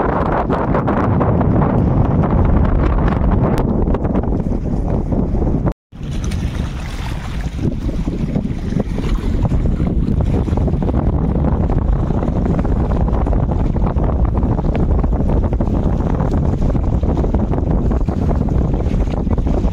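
Strong storm wind after a storm on a Sundarban riverbank roars loudly and continuously into the microphone, buffeting it with deep rumbling gusts and cutting out for a moment midway.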